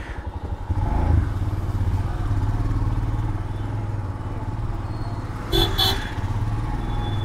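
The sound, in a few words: motorcycle riding on road to Pattaratu valley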